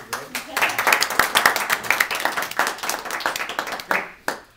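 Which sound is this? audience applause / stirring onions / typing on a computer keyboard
audience applause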